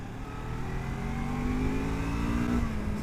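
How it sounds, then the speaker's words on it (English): Lexmoto LXR380 motorcycle engine revving hard on dry roads, a loud steady high-pitched drone climbing in pitch and holding near the rev limiter, close and continuous with no talking. "it's that rev limiter! It kicks in way before I expect it to"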